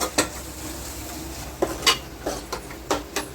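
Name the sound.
stirring egg pulusu curry with a spoon in a pan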